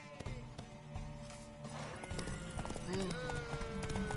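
Rapid clip-clop of galloping horse hooves in The Witcher 3 video game, steady and driving, with a faint whinny and voices speaking underneath.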